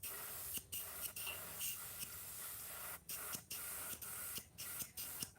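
A compressed-air paint spray gun run at fairly high pressure, loud and close, hisses in sustained bursts broken by about half a dozen brief pauses as the trigger is released.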